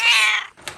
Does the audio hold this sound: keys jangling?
no